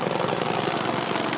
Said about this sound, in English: So we're flying low and slow through a city to map the background radiation of a city.